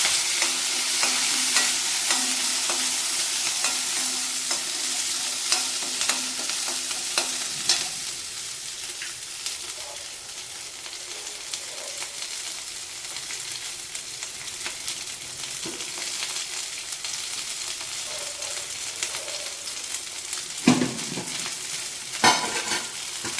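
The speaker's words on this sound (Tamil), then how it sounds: "இப்போ வந்து இஞ்சி பூண்டு வெங்காயம் எல்லாத்தையும் போட்டு வதக்கிடுவோம்" Ginger, garlic and onion sautéing in hot oil for butter chicken, a continuous close sizzle with stirring scrapes and occasional clinks of a utensil against the pan, with no voices.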